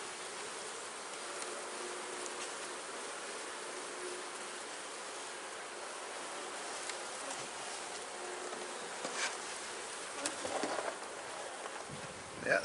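Bees swarm and buzz around an open hive during a hive inspection, a steady, dense insect drone filling the space close by, with a few louder bursts near the end.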